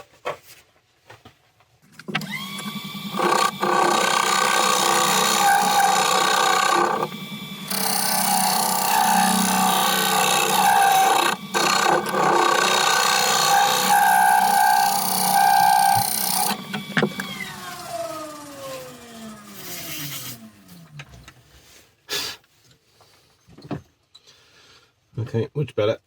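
A willow bowl with multi-coloured resin inlay spins on a wood lathe while a scraper works the inside, giving a loud, steady whirring drone with a scraping edge for about fifteen seconds before the motor winds down and stops.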